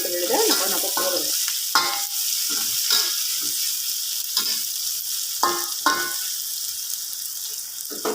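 Onions sautéing in a pan for brinjal thokku, with a steady close sizzle broken by repeated scraping stir strokes at irregular intervals throughout.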